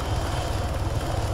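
Helicopter rotor and engine in the Arma 3 military game, a steady loud low thudding drone that continues without a break, with no voices.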